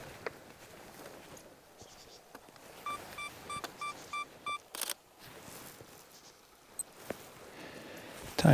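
A watch timer alarm goes off outdoors during the 2023 solar eclipse in Utah, a run of about six short, evenly spaced beeps, fairly faint amid scattered clicks and background noise.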